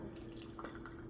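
Liquid splashes and trickles briefly, a close, soft watery pour lasting about a second with no talking.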